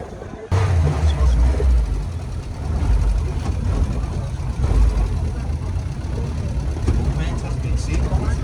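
A Mazda petrol engine in a 15-year-old tomato transporter truck runs steadily with a loud, low rumbling drone that starts abruptly and holds even, with people talking over it.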